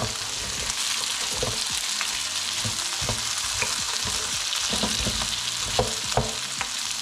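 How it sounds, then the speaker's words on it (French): Duck confit sizzles and fries steadily in a covered pot on low heat. A dense, continuous crackle runs throughout, with occasional sharper pops and faint stirring knocks. "On va commencer à cuire gentiment."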